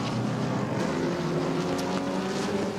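Race cars pass during a motorsport circuit race, their engines a continuous, loud roar with no break and no voices.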